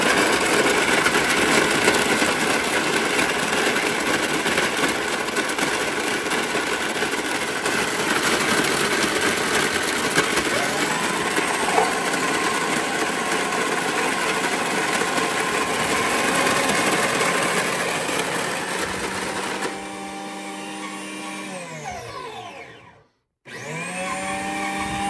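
A Margaritaville Key West Frozen Concoction Maker blends a frozen drink with a loud, steady whirring motor and grinding ice for about twenty seconds. The tone then shifts lower, cuts out briefly, and starts up again.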